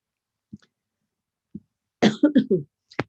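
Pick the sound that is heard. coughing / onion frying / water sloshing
coughing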